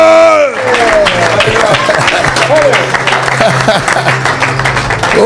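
A church congregation applauds and cheers for Jesus during a deliverance service, dense sustained clapping and crowd noise filling the space at close range, with a hum of voices underneath.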